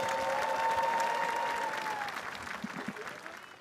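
A large outdoor crowd at a Liberation Day national ceremony in a public square applauds a singer, the clapping fairly distant and fading gradually, with a faint tone and brief voices in the first seconds.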